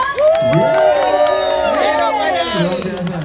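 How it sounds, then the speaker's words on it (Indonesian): An outdoor crowd at a Ganjar Pranowo fun walk event in Denpasar, Bali, cheers and whoops loudly, with rising shouts and overlapping voices filling the whole stretch close up. "Boleh kita berikan tepuk tangan ya?"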